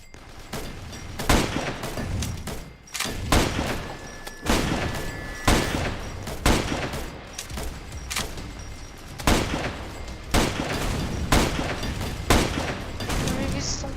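Gunfire in a Roblox zombie survival game: repeated heavy, booming shots about once a second over a steady rumble, with a person talking throughout.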